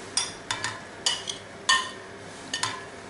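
Boiled potatoes, onion and parsley being tossed together in a bowl, heard as a series of short, sharp scraping and clinking strokes of a utensil, roughly evenly spaced, close and moderately quiet.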